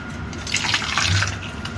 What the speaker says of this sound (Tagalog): Lagyan pa din natin ng tubig.